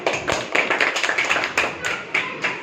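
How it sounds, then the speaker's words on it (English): Students in a classroom clap in short irregular bursts of separate sharp hand claps, fairly close and moderately loud, with no voices over them. "Clap."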